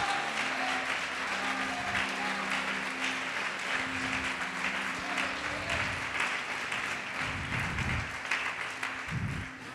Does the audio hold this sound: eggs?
no